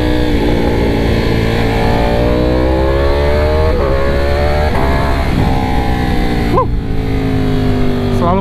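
A Ducati Panigale V4 motorcycle, freshly serviced after a year of use, revs loudly and continuously up close, its engine note climbing and falling with a sharp throttle blip near the end.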